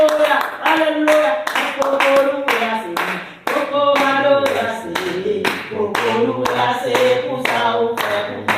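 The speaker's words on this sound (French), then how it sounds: "Acclamation pour le Seigneur." Rhythmic group clapping at a church thanksgiving celebration, steady repeated hand claps in time with loud singing and voices throughout.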